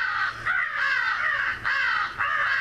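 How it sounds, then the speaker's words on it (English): Crow calls play from a Lucky Duck electronic caller, a string of four loud, harsh caws repeating at a steady pace, close and clear with no talking. "Definitely have to be putting these crow sounds to use here soon."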